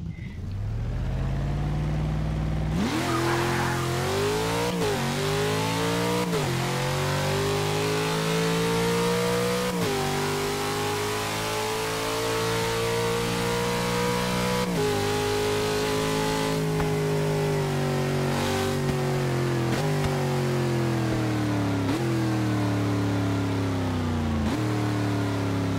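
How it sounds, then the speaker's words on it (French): A car's engine in the racing game Forza 6 on Xbox One revs loudly and continuously during a drag run, climbing in pitch through repeated gear shifts with brief dips between them, close and with no talking. "Déjà, la voiture fait un beau bruit."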